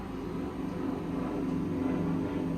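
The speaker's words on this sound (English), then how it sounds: "there's a plane, so I hope I'm gonna stop talking so you can hear me" An airplane passes overhead in an outdoor garden, a steady, low broadband drone that holds at constant loudness throughout, with no talking over it.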